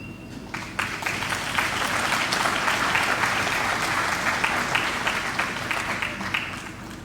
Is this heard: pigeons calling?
no